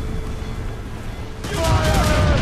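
Cannon and gunfire volley from a naval battle in Assassin's Creed Rogue erupts halfway through, a loud rolling barrage of booms over ship ambience and distant shouting.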